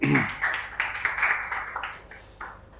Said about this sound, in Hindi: पहले प्रियल अग्रवाल के लिए ताली मारेंगे भाई